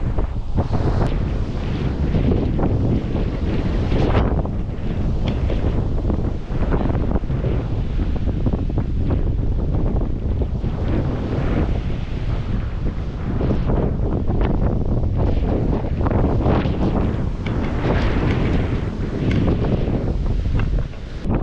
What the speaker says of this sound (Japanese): 今日は風がすごい強いです。